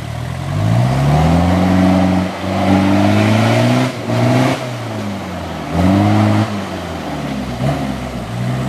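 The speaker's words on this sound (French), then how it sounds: "Le régime du moteur il accélère mais les roues tournent pas." A car engine revs up and down repeatedly with the clutch in, its pitch rising and falling in several surges, loud and close, with no one speaking.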